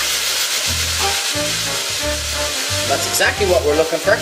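Meat browning in a hot pan gives a steady sizzle and hiss, close and fairly loud, with a few brighter crackles near the end, under someone speaking.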